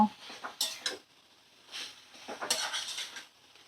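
Food being stirred in a pan on a gas flame while the water cooks off, a series of close metallic scrapes and light clinks in irregular bursts, with no talk.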